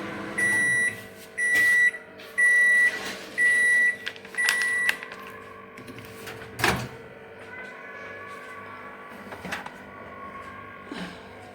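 A home kitchen microwave reheating eggplant gives five evenly spaced loud beeps, followed by a sharp door clunk and a few soft knocks and clatters against a quiet background.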